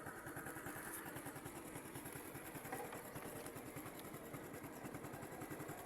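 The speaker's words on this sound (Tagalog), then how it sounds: "Masyadong maingay yung motor ko guys." A noisy motorcycle engine idles steadily in a leafy, tree-filled outdoor spot, a continuous low rhythmic chugging held at an even level throughout with no talk.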